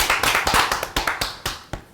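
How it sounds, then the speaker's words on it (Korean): A small group clapping in a sparse, uneven rhythm of about a dozen separate claps, close and fairly quiet, at a Korean tech livestream session. "박수 한번 칠까요?"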